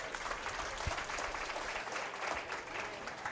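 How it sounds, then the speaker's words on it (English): Sustained applause from a county fair swine show audience for the intermediate exhibitors, steady and dense clapping filling the arena throughout, with no talk over it. "Let's give your intermediates a round of applause out here."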